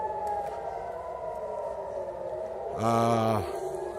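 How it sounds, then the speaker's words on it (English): An air raid siren in North Tel Aviv during rocket fire drones steadily in the distance, swelling louder near the end with a brief rising-and-falling howl. "Got another air raid siren going on in North Tel Aviv."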